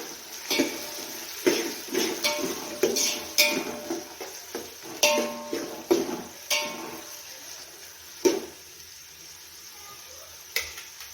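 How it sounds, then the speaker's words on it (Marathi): Chopped onions stirred with a metal spoon in a frying pan for chicken biryani, giving repeated close scraping clinks and clatters in an irregular rhythm with a faint sizzle beneath. "कांदा मोठ्या गॅसवरती दोन ते चार मिनिट फ्राय करून घेऊया"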